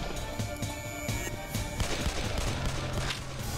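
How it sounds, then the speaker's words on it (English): Gunfire in the video game Possessed, a dense rattle of rapid shots blending into a constant busy din, moderately loud throughout. "Katie, what are you shooting at?"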